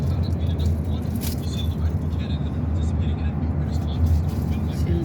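Cars crawling in an evening traffic jam on a road in the United States during cold weather: a steady low rumble of engines and tires, with someone talking over it throughout.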